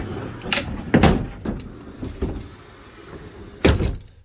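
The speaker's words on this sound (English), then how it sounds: "There's a double pocket door right here to close off the bedroom area." Double pocket door in the bedroom of a 2008 Country Coach Intrigue RV sliding shut, with several distinct thuds and rolling knocks, the loudest at the start and a final firm bump near the end, close by with no talk.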